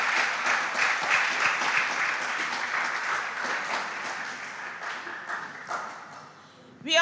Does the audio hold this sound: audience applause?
yes